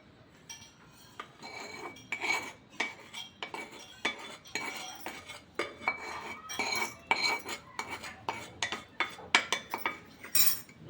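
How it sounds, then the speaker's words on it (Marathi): Spice masala being mixed into green chilli pickle, heard as repeated clinking and scraping of a metal spoon against a bowl in quick, uneven strokes, close and fairly quiet, with no voices. "आता आपण या मिरचीच्या लोणच्यात ओतूया"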